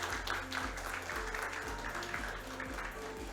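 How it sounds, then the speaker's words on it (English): An audience at a college-to-corporate HR summit applauds during a memento presentation, a steady wash of clapping heard from a distance with a low hum beneath. "Please give a huge round of applause"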